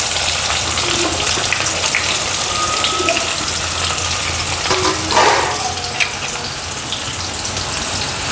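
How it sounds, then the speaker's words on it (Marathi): Onion tipped into hot oil already crackling with cumin and mustard seeds, giving a steady broad hiss with a soft surge near the middle, close and fairly loud throughout. "आपण जिरं घालून घेऊ आणि हा भरपूर असा कांदा घालू."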